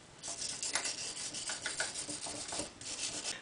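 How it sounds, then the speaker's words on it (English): A metal brush scrubs a corroded acetylene tank valve fitting in quick, rhythmic, raspy strokes, close but fairly quiet, with no talking over it. "I'm going to take a metal brush and clean it"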